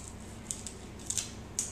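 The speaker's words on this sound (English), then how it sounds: "take a scissors and just cut that" A few crisp snips of scissors cutting paper, irregularly spaced sharp clicks close to the listener against quiet background.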